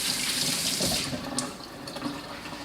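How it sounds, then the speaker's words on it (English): Water running from a tap as hands are rinsed before rubbing a brisket, a steady close splashing rush that eases slightly toward the end. "I'm gonna rinse my hands real quick."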